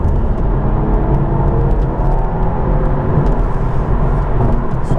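Steady broadband road roar from a car cruising along the M65 motorway, a continuous loud rumble of tyres and engine with wind noise and no gaps, no voices over it.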